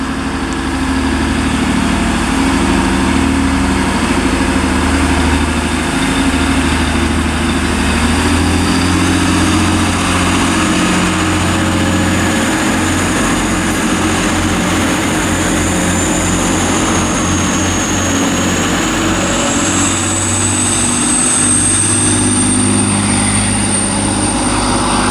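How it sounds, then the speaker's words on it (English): Class 185 TransPennine Express diesel train pulling out of Durham station on the East Coast Main Line, a loud steady low engine drone with a rising whine building over half a minute, no talk. "departing out now is going to be the 1409 Transpennine Express service from Liverpool Lime Street to Newcastle"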